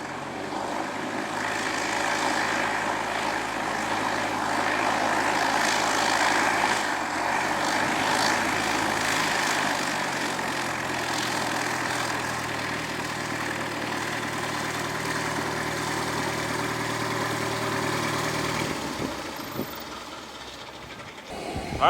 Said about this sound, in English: We got the NASA G5 constantly, perpetually running their APU